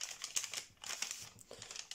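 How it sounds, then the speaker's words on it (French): Origami paper being creased into a squash fold while folding John Montroll's blue shark, with close, dry crinkling and rustling in quick, irregular bursts throughout. "maintenant on va refaire un pli aplati"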